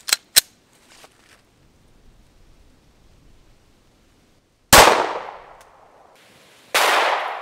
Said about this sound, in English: next we're shooting the 9mm full metal jacket out of my Glock 17